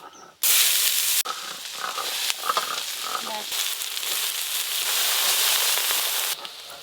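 Soaked, squeezed soybeans drop into a hot wok, setting off a sudden loud hiss that settles into a continuous bubbling sizzle with small crackles.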